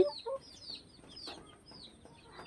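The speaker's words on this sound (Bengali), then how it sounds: "আর এখানে আমি তিন পিস মোরগ রেখেছি আর আট পিস মুরগি রেখেছি" Tiger breed hens and roosters kept in a small coop cluck softly in short scattered calls, fairly quiet and close, with faint background noise.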